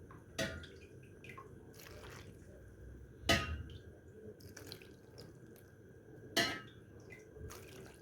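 Grape-leaf boiling water ladled into a cooking pot of stuffed grape leaves, three distinct splashy pours spaced a few seconds apart with light dripping and faint clinks between them, no talk.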